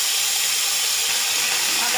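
Ginger paste hits hot oil already seasoned with dried chilli, cumin and bay leaf, giving a loud, steady, bright sizzle that fills the short moment without pause.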